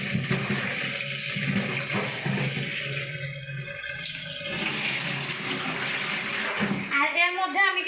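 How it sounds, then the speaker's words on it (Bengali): Fish, already cut and cleaned, rinsed under a steady stream of running tap water in a kitchen, a continuous splashing wash that ends abruptly, with a voice talking over it. "আর মাছগুলো কিন্তু এখন ধুয়ে নেব"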